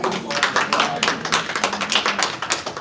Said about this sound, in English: give him a round of applause first of all